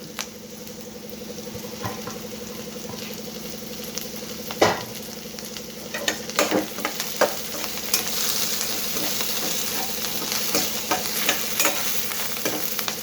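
Curry leaves and four green chillies frying in hot oil for a brinjal curry, a continuous crackling sizzle with spattering pops and occasional stirring knocks, close and fairly loud, no talking.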